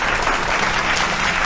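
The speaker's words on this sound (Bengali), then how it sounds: "জোরে হাততালি সোমদত্তার পরিবারের জন্য" Studio audience applause on a Bengali family game show, loud, dense and continuous, a steady wash of many hands clapping close by.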